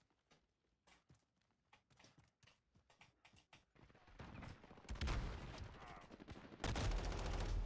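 Call of Duty Modern Warfare gameplay with AK rifle fire: scattered single shots at first, then building into heavier, denser bursts of automatic gunfire that grow louder toward the end.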